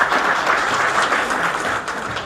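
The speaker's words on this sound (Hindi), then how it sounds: "सबसे पहले तो आप सब लोग अपने लिए तालियां बजाएं।" A crowd of electricians at a company event applauds steadily at full volume, dense continuous clapping with no voices over it.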